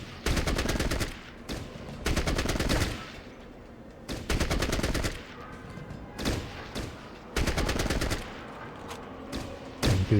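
Rapid automatic gunfire in Fallout Tactics: Brotherhood of Steel, loud bursts of rattling shots in four or five separate volleys with short pauses between them.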